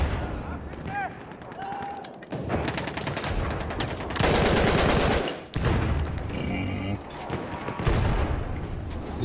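Battlefield 1 gunfire in a maze-like corridor fight, sustained automatic bursts and loud blasts filling the mix, with players talking over the shooting.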